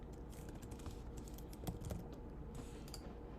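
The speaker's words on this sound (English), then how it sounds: "I want to literally type lunch." Quiet, close typing on a computer keyboard, a quick irregular patter of key clicks with a few slightly louder taps and no speech.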